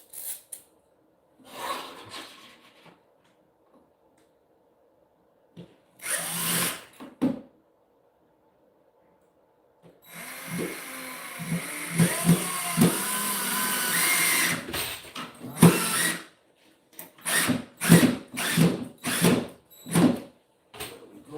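A power drill drives a screw into a wall stud while an IKEA Billy bookcase is mounted, giving several whirring bursts, including one long sustained run and a string of short, rhythmic pulses close by.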